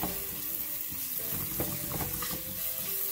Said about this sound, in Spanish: Voy a cocinar estos vegetales por 5 minutitos